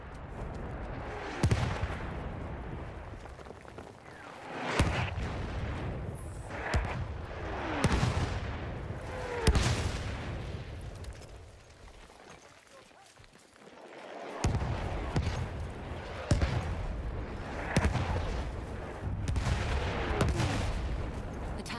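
An artillery barrage in the video game Battlefield 1 sends repeated heavy booming blasts at irregular intervals, each with a rumbling tail, loud and close, with a brief lull near the middle before the explosions resume.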